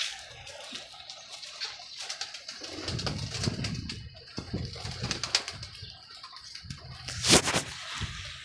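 Pigeons coo softly at close range inside a box in low, repeated murmurs, with scattered rustling and a short burst of fluttering near the end.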